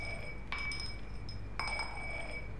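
Glass clinking in the video game SOMA, two sharp bright chinks about a second apart over a steady low ambient hum.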